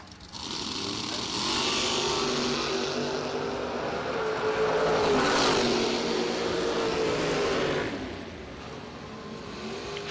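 Drag race cars, a '27 Roadster and a Camaro, roar down the strip, engine noise swelling to a loud sustained peak midway before fading, heard from the trackside.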